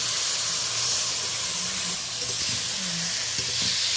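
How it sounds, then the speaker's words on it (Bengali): Turmeric is stirred into a hot pan for a spicy curry of small mourola fish, with a continuous hissing sizzle and faint scraping strokes of the spoon close by. "অল্প একটু হলুদ দিলাম ভালো করে মিশিয়ে নিচ্ছি ভালো করে নেড়ে নিচ্ছি"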